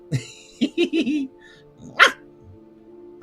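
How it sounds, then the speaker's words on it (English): Kibby the dog lets out a string of quick, cheerful yips and barks, a few in a rapid burst, then a louder single bark after a pause, close and clear against a quiet background. "You get a bark for that. A happy bark."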